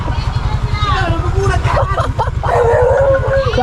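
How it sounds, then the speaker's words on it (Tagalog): A dog barks and howls in a residential neighbourhood, yelping calls rising above a steady hum and crowd babble, with people talking throughout. "May aso."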